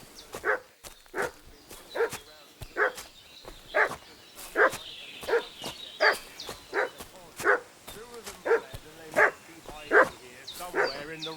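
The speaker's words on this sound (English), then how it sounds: "What's that dog making such a fuss about?" A dog in the village of Troski in Kingdom Come Deliverance 2 barks repeatedly in a steady series of sharp, moderately close barks lasting around ten seconds, with some whining and a little ambient noise.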